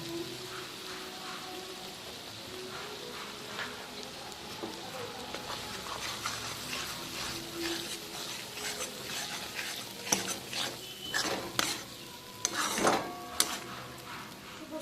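Mustard-poppy paste frying in a pan, a soft continuous sizzle with repeated scraping stirs that grow louder and busier toward the end, with no voices.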